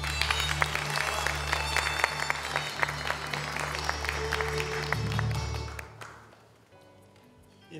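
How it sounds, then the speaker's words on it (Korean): Guests at a welcome reception clap to greet an introduced attendee, a steady run of applause over a sustained low hum, fading out near the end. "한 분 한 분 소개될 때마다 큰 박수로 환영해 주시면 대단히 감사하겠습니다."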